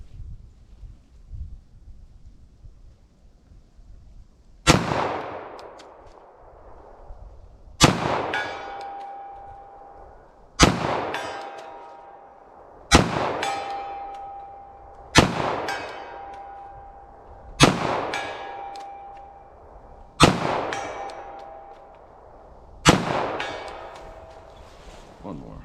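.45 ACP pistol firing in a ballistic test: eight sharp, loud shots spaced roughly two to three seconds apart, each with a short ringing decay, after a quiet stretch at the start.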